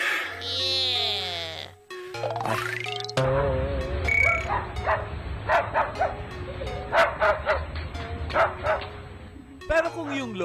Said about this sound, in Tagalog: Tumatahol talaga siya, oh!